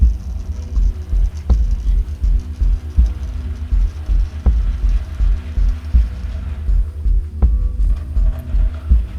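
A model Stephenson's Rocket locomotive on the Liverpool and Manchester line hauls a rake of rolling stock, giving a loud, close rhythmic throbbing rumble with regular pulsing beats and occasional clicks.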